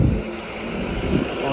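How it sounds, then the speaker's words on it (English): A coach bus heading back to the airport rolls past with a steady low engine rumble and road noise, moderately close and continuous, with no talk over it. "Here comes the coach back to the airport."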